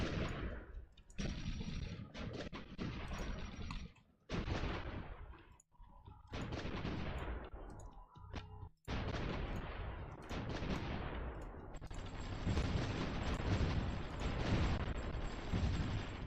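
Rocket artillery from an MLRS fires in the strategy game Supreme Ruler Ultimate during a war over Bhutan, heard as a long run of loud, overlapping booms, blasts and rumbling volleys that sometimes break off abruptly, with no speech.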